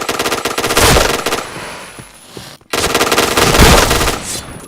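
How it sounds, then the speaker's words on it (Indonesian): Rapid automatic gunfire rattles in a shooter video game, loud and sustained bursts broken by a brief pause, then firing resumes. "Gak mati nggak tuh nembak?"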